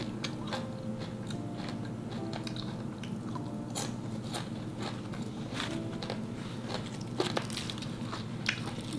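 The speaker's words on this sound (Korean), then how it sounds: "한번 먹어볼게요." Crunchy bites into crispy fried green pepper chips coated in glutinous rice batter, sprinkled with sugar and salt, with repeated close crackling crunches in a steady chewing rhythm and no talking.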